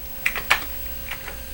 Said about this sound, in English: typing the name of each one at a time in my word processor for you